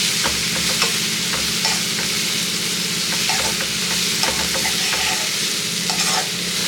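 Vegetable masala being stirred in a frying pan for masala bread toast, with steady scraping strokes under a continuous close sizzle and no voices.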